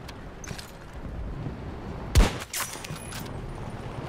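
A single sniper rifle shot in Battlefield 2042, one sharp loud crack with a brief echoing tail over quiet battlefield ambience, followed by a smaller report.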